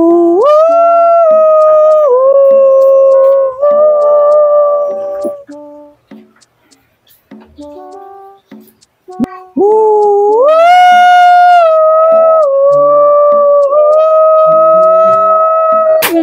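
A person imitates a dog howling with long, drawn-out, wavering howls that rise and fall in pitch, loud and close. The voice breaks off into quieter talk before howling again.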